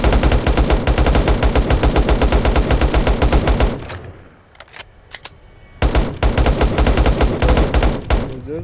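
Automatic gunfire in the shooter game LifeAfter, loud dense rapid bursts that stop for about two seconds with a few isolated shots, then resume at full intensity.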